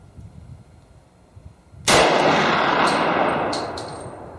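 A Glock 32 pistol with a 4-inch barrel fires a single .357 SIG round outdoors, one sharp, loud report followed by a long, slowly fading echo, after quieter background noise.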